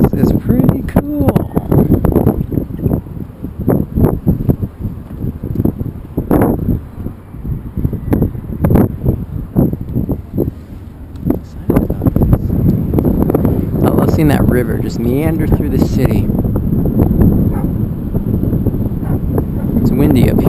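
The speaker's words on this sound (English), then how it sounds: "It's windy up here, but it's a nice Parisian wind" Wind at the top of the Notre Dame bell tower in Paris blusters and rumbles steadily against the microphone while a person talks over it.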